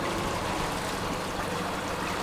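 Rushing tidal rapids pour through a narrow channel at Hole in the Wall on the British Columbia coast, a constant, fairly soft churning roar of moving water with no talk.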